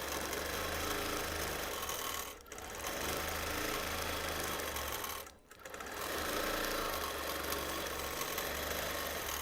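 A sewing machine stitches free motion flames across a T-shirt quilt, its rapid needle chatter running steadily and loud, broken by two brief pauses before resuming.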